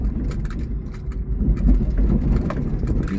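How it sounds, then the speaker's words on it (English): A mini truck rolls over a rough rubber road surface near the Orange River, giving a steady, close rumble of tyres and engine with a thick low-end drone that swells slightly midway. "my little mini truck is going through hard times over this little rubber road"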